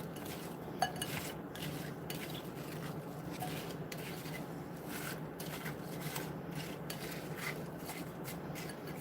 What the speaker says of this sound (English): I'm just going to give them a little bit of a stir